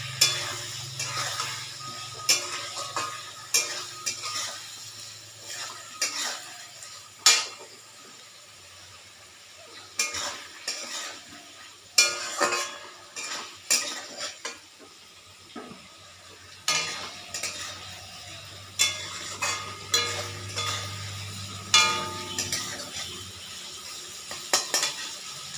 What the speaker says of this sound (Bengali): এবার মশলাটা আর হলুদ দিয়ে এগুলোকে ভালো করে কষিয়ে নেব আলুটাকে